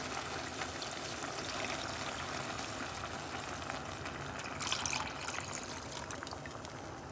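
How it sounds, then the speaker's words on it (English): Stock is poured into a pot of chicken bog, making a steady, faint liquid rush that runs throughout with a slight swell near the end. No one speaks. "go ahead and add all of the juice. And 2 cups of stock."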